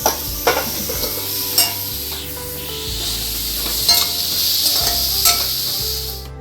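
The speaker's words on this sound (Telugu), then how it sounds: "సాల్ట్ వేసుకుని ఆనియన్స్ మగ్గించుకుంటున్నాం." Onions with salt sautéing in homemade butter in a pan with cashews, giving a steady sizzle with repeated scraping stirs, close and fairly loud throughout.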